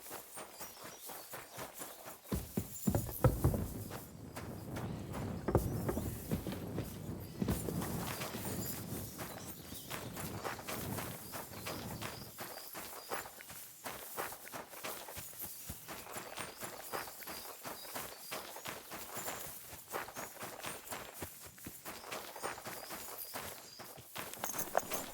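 Horse hooves walking in the video game Kingdom Come: Deliverance II, a steady clip-clop of footfalls over quiet ambient background throughout.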